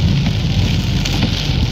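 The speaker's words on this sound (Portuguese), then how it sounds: "a chuva é torrencial" Torrential rain pours down steadily over a Porto Alegre neighbourhood during a heavy storm, a dense, loud, unbroken roar of water with scattered drop impacts, and no voices.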